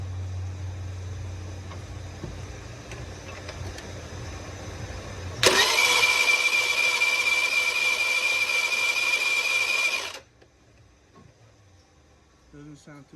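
A GY6 scooter engine fitted with a 100cc big bore kit cranks over without spark, a steady whirring starter drone of about five seconds that stops abruptly, with faint talk around it.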